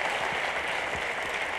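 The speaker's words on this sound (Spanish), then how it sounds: "Y con un aplauso de todos." Full, steady applause from the audience at an awards gala, many hands clapping together in a thick, continuous wash heard alone for a moment.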